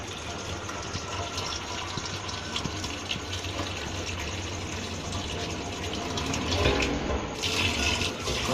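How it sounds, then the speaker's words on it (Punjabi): Water pours steadily into a sturdy steel drum while preparing a small batch of chicory distillate, a continuous gushing fill that swells louder near the end, with no talk over it. "ਲਿਹਾਜ਼ਾ ਹੁਣ ਇਹਦੇ ਵਿੱਚ ਅਸੀਂ ਪਾਣੀ ਪਾਉਣੇ ਆ"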